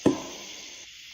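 A single sharp knock on wood at night in a forest, close and loud, followed by a faint hiss of background noise.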